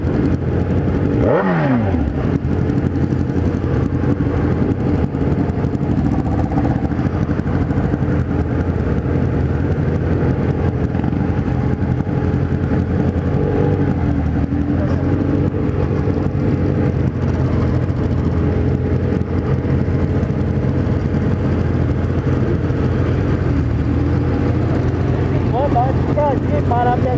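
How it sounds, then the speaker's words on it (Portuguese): A Kawasaki Z1000 motorcycle engine idles and revs steadily for a long stretch, close and loud, while other motorcycles of all sizes rumble nearby on a city ride. A steady roar of traffic and wind runs underneath. "tá esquentando a moto"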